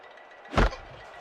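Football kickoff in NFL 2K5: a single sharp thump of the boot striking the ball, brief and fairly close, over quiet crowd ambience.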